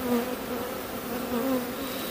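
Honeybees on frames pulled from a hive during the making of an artificial swarm give off a close, steady buzz with wavering tones, alone and without talk.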